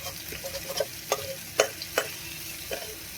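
Cumin seeds hitting hot oil in a pan for a cauliflower and bata fish curry, giving a low steady sizzle with several short crackling bursts, fairly close and without talk.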